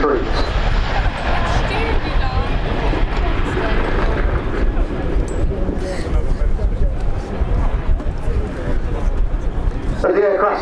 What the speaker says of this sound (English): Now as the aircraft departs, it performs what we call an over-the-shoulder departure.